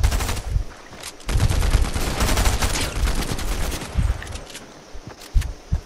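Rapid, loud bursts of gunfire in Fortnite, including shotgun blasts, crackle close up in a dense, continuous barrage with brief lulls and no talking.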